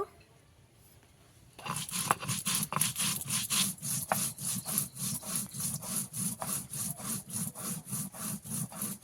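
Ginger being ground into paste on a traditional grinding stone, a steady back-and-forth scraping rhythm of many quick rubbing strokes starting after a quiet moment, close and even.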